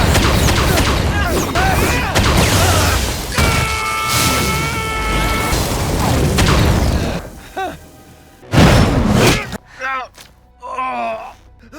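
Rex's spine detonating in the Invincible cartoon: loud booming blasts and crashing debris over a dense layer of action sound, then sharp bursts breaking through near the end, with gasping voices in between.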